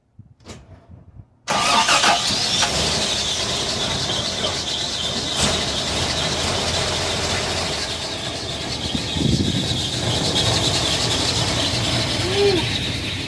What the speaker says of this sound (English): After all that time sitting, I closed the choke off, no throttle, and it started up.